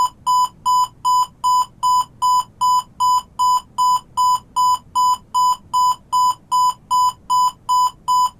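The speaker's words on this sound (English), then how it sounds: "As it ticks over, the alarm goes off." A radio alarm clock's alarm goes off in a rapid, steady train of identical electronic beeps, loud and evenly spaced, about two per second, with no talk over it.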